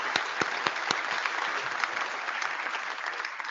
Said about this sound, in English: So if I could just have a little round of applause for all of these sponsors.